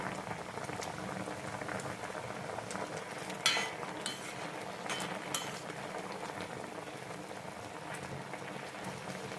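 Jaggery syrup boiling down in a pan, a soft continuous bubbling and popping with occasional louder bursts, fairly quiet and alone without speech.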